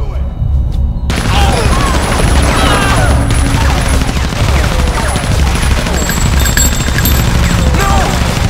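Sustained rapid machine gun fire in a Resident Evil 0 cutscene, loud dense bursts continuing for several seconds after a short quiet start, with voices shouting over it.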